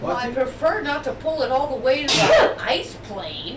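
A person sneezes once, a sudden loud burst in the middle of ongoing conversation, with someone speaking before and after it.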